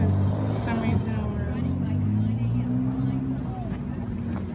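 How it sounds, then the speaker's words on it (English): A Ferrari's exhaust rumbles low and steady as the car drives away from a car show, a moderate engine drone with people chatting over it. "You can still hear the Ferrari, and yeah, you can hear the exhaust pipe."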